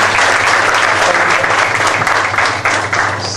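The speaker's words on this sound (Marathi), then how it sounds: "तर रोहित म्हात्रे याच्यासाठी जोरदार टाळ्या मारतो." A crowd delivers loud, dense, continuous applause for Rohit Mhatre at a talk about filmmaking, steady throughout and fading slightly at the end.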